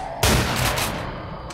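A shotgun blast from the Underhell video game booms out loud and close, with a long ringing decay, and a second shot cracks in just as the first fades.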